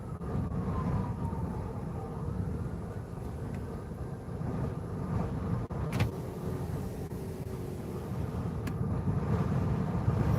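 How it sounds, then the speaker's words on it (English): Strong wind gusts buffet a car during heavy rain beside a CSX rail line, a steady loud broadband roar with swelling gusts that runs throughout. "You could hear the wind."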